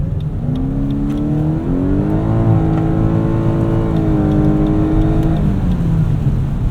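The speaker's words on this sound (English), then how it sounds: "V6 sounds kind of good too" A V6 car engine in sport mode revs up steadily, its pitch rising and holding high before easing back down, loud and close with a smooth, continuous drone.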